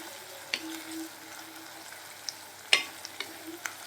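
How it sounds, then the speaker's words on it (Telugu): Onions with curry leaves and coriander frying in a pan for a broccoli fry, a soft steady sizzle with a few sharp stirring clicks and clinks, nearby and fairly quiet. "ఇలా యాడ్ చేసుకొని ఫ్రై చేసుకోవాలి."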